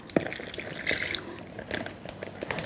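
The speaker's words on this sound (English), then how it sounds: "So then we're going to pour the marinade in there." Marinade poured over keto Maui short ribs laid flat in a container: soft liquid splashing and dripping with a few sharper drips and small clinks, close by and fairly quiet, with no talking.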